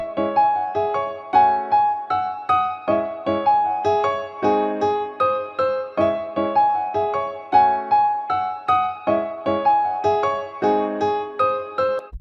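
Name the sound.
staccato piano melody, Japanese pop clean preset, Arturia Piano V5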